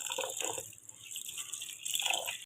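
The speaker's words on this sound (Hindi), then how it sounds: "दाल को अच्छी तरह से धो लें 2-3 पानी" Water splashing and trickling while lentils (dal) are rinsed in a kitchen, soft close drips and swishes in two short bursts, no talk.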